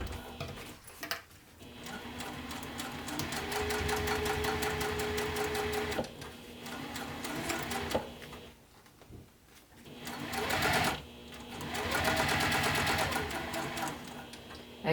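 A sewing machine stitching a bag runs in close, steady bursts, its rapid mechanical needle chatter stopping and restarting several times with brief pauses between runs.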